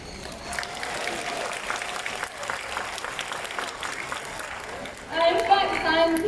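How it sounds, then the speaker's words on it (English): An audience applauds at a bird park show, with sustained clapping at moderate level under ongoing voices and a brief louder burst near the end, likely cheering or an amplified voice. "we give him a thunderous round of applause"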